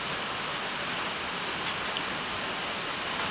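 Steady rain hisses evenly throughout, a dense continuous patter with no voices.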